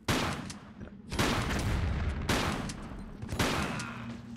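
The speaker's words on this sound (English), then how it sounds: "Oh, it's a grenade." Grenade blasts in the PC game Tomb Raider IV: The Last Revelation, a run of heavy booming bursts with noisy rumbling decays, loud and repeated roughly every second.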